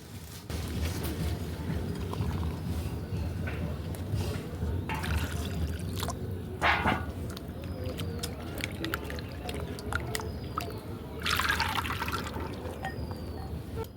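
Jackfruit seeds are rinsed by hand in water, with continuous sloshing, splashing and trickling close by and a few louder pours of water over them.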